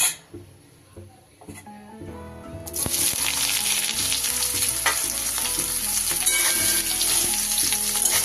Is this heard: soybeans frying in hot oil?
yes